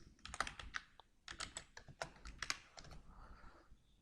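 Names typed on a computer keyboard in rapid irregular clusters of crisp key clicks, soft and close, with brief pauses between words and no voice.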